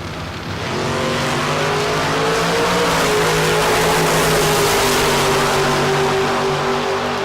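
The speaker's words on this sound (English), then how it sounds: "Taking on Rodney Parks, right side, dialed 564." Drag race cars launch side by side at a bracket race at the Texas Motorplex, a loud sustained roar of engines with rising harmonic whine that holds steady for several seconds, no talk over it.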